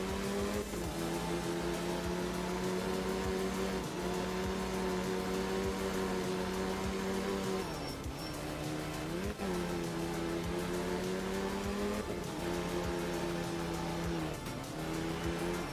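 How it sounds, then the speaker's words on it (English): A rally car engine in the video game Art of Rally hums with a steady, smooth purr, its pitch dipping and rising briefly at gear changes, loud and constant with no talk over it. "This car doesn't sound too bad either. It's got like a more of a purr to it."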